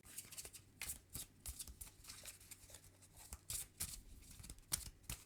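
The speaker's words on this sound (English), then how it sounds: "So that is shuffled up." Playing cards shuffled by hand for a Marvel Champions card game, a run of quick riffling and shuffling bursts close up with no talking.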